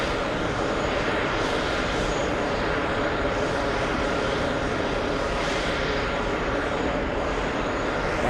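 A Delta Airbus A321neo airliner bound for the Dominican Republic takes off, its engines a steady, loud, broad roar that holds throughout without a break.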